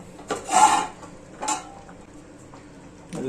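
Metal lid lifted off a simmering pot of fish curry on the stove, giving a couple of short clanks and scrapes separated by quiet moments, with another knock near the end.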